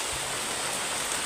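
Steady rain falls outdoors as a constant dense hiss of drops, even and unbroken at a moderate level.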